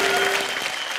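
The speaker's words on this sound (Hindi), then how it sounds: "सुपरस्टार एकता कपूर के लिए जोरदार तालियां।" Studio audience on a Hindi comedy show bursts into loud applause for Ekta Kapoor, a dense unbroken wall of clapping for one short second.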